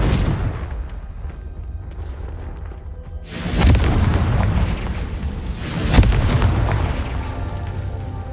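Two deep booming blasts from the Confringo explosion spell in the Hogwarts Legacy video game, spaced a couple of seconds apart over a low rumbling game background.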